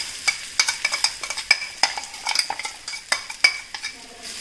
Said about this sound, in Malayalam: ഇനി നമ്മൾ നേരത്തെ അരച്ചു വെച്ചിരിക്കുന്ന ഈ അരപ്പ് ഇതിലേക്കിട്ട് ഒന്ന് മൂപ്പിച്ചെടുക്കാം.